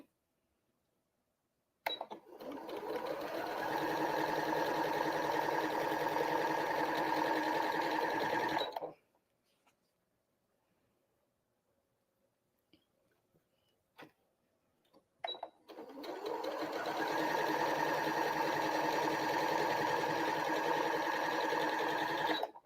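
Sewing machine stitching quilt pieces for a Heat Wave quilt, two steady motor-driven runs of rapid stitching, each several seconds long and loud, separated by a quiet pause with a few small handling clicks.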